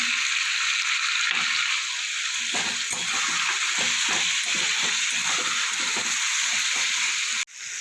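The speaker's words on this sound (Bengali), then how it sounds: "পেঁয়াজটা আমার কিছুটা ভাজা হয়ে গেছে পেঁয়াজ আর টমেটো আদা রসুন" Onion, tomato, ginger and garlic frying in a pan give a loud, constant close-up sizzle, with a quick run of stirring scrapes through the middle and a brief drop near the end.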